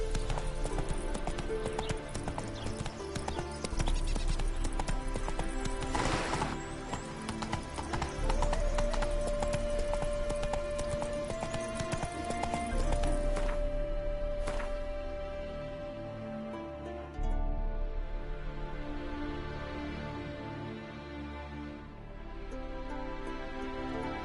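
Roach, the horse in The Witcher 3, gallops with steady clip-clop hoofbeats under a continuous music bed, loud and sustained throughout.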